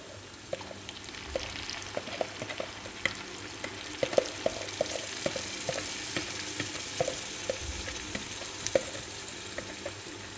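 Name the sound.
frying meat stirred with yogurt and nihari masala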